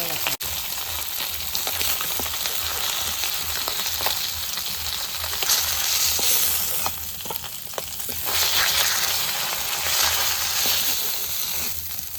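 Fish frying in oil over a home cooking fire in the Sundarbans, a steady dense sizzle with occasional stirring scrapes running throughout at close range, no talk.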